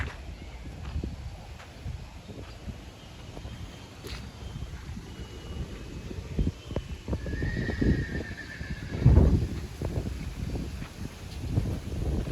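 Mares give a drawn-out whinny while hooves clip-clop irregularly on the ground outdoors, with wind buffeting the microphone and a louder thump near the end.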